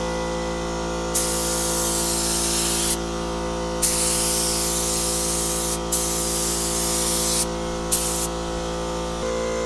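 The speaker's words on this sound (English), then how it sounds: "So let's spray the second headlight." A cheap Harbor Freight HVLP spray gun lays 2K clear coat onto a car headlight in four hissing bursts of uneven length, separated by short pauses, over a steady low background hum.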